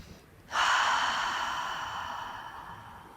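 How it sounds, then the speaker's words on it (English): A deep breath during a prenatal yoga back and chest pose, a sudden strong inhale or exhale through the nose that starts abruptly and then slowly fades over a few seconds, close and alone. "Maintain that deep breath."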